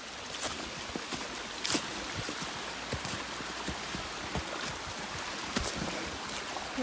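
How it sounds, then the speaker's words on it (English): A waterfall on a hiking trail gives a steady, dense rush of falling water, with occasional soft knocks and taps standing out from the constant wash. No voices are heard. "I think this is a waterfall."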